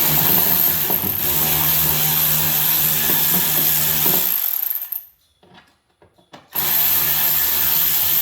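A power drill with a T20 Torx bit backs out the screws of the third brake light on a 2022 Ford Maverick, whirring loudly and steadily for about four seconds, then a quiet gap before the motor spins up again.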